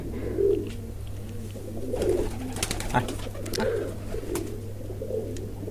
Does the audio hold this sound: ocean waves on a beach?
no